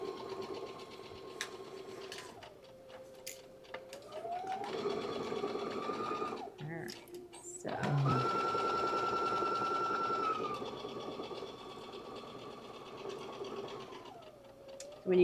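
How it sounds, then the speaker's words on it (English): A Baby Lock sewing machine stitching fabric, its motor whirring in steady bursts that speed up and slow down, with short pauses between runs and faint clicks, close and clear. "the baby lock sounds so nice"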